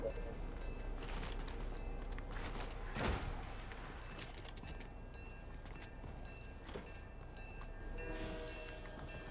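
A train rumbles past in the Fortnite video game, a sustained rolling roar with clattering bursts and a loud swell partway through, heard alone without talk.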